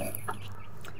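A chicken clucks in short, close, repeated bursts over a steady low background hum on a rooftop where hens and chicks are kept.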